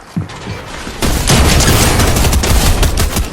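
Enemy gunfire in the Fortnite video game, a dense, loud barrage of rapid shots and booms that starts after a brief lead-in and keeps going steadily to the end.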